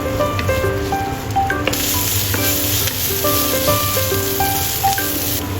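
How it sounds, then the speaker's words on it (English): Onion stir-frying in hot oil in a wok, a loud, continuous close sizzle with spatula scrapes and clicks, and light music playing underneath. "Heat oil. Stir fry onion until translucent."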